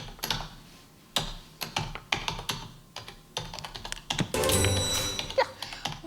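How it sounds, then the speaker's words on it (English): Someone types on a QWERTY computer keyboard, producing irregular bursts of close, crisp key clicks with short pauses, ending in a denser flurry of clatter. "I'm going to play the sound of someone typing"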